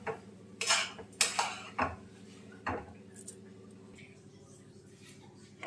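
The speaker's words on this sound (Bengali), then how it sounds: "আমুল দুধটা দিয়ে আবার কিছুক্ষণ নাড়াচাড়া করে নেব" Grated coconut and Amul milk stirred in a pan, a few sharp metallic scrapes and clinks of a spoon against the pan in the first three seconds, then only quiet background hum.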